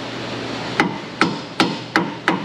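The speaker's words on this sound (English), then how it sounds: "Hammers are good." A hammer taps an upper control arm into place on a Ford F250 in a garage, five sharp metallic strikes in an even rhythm, close and loud with no talk.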